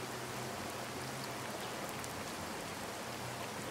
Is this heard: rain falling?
yes